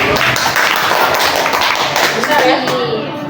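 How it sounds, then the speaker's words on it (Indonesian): A small counseling group claps together, close and loud, with sharp overlapping hand claps and some taps that go on for a few seconds before tapering off, while voices are heard among them. "Tepuk tangan dulu pada dulu."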